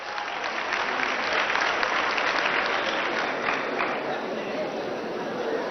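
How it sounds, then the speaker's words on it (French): Sustained audience applause for young project teams at a Senegalese awards event, a dense, loud, continuous roar of clapping with crowd noise mixed in, unbroken from start to finish. "Merci, merci d'encourager et d'applaudir tous ces jeunes."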